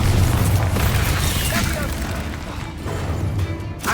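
Bombarda blasting spell going off in the video game Hogwarts Legacy, a loud booming explosion with a crashing burst that fills the clip, game music and effects layered beneath and a voice speaking over it.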